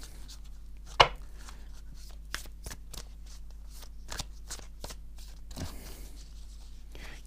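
Oracle cards are cut and handled, giving a string of crisp, close flicks and taps at an irregular rhythm, one sharper snap near the start and a softer riffle toward the end, with no talk.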